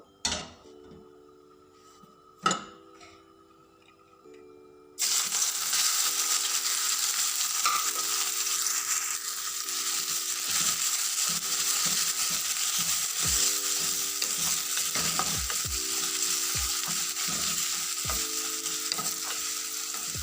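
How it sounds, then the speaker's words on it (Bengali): Onions drop into hot oil and fry with a loud, steady sizzle that starts abruptly after a few quiet seconds of clinking, with occasional stirring scrapes throughout. "তো এই যে তেলটা গরম হয়ে গেছে, তো এখন আমি পেঁয়াজগুলো দিয়ে দিব।"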